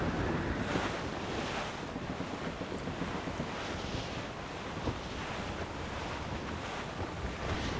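Roaring sea waves and blustering wind in the video game Assassin's Creed Rogue form a dense, continuous wash of stormy noise, steady and fairly close, with no voices.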